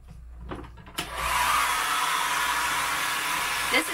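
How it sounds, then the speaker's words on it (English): A hair dryer switches on with a click and blows a steady, loud whooshing whir while drying hiking clothes indoors, after a few faint rustles and handling sounds. "I'm going to dry them with the hairdryer."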